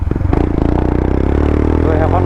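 A Royal Enfield Himalayan 411 cc motorcycle fitted with an Akrapovic exhaust idles and revs up close, its loud pulsing thump settling into a steady throbbing drone.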